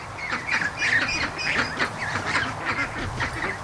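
Ducks quack repeatedly in a busy, overlapping chorus close by, harsh nasal calls coming in quick bursts without pause over a soft outdoor background; young ducklings are among the flock.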